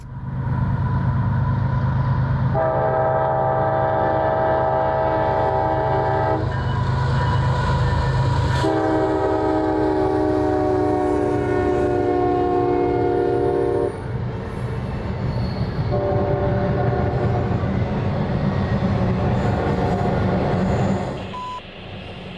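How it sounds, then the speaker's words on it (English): A CSX northbound intermodal freight train, rerouted onto the line, passes close by with a loud continuous rumble and rail clatter, while its horn sounds in several long blasts over the roar. "The first train would be northbound rerouted hotshot intermodal IO26."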